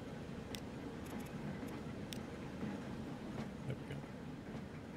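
Train pulling into an empty platform in Transport Fever 2, a steady rumbling roll with faint metallic clicks and squeaks over a low continuous drone, moderately loud and alone.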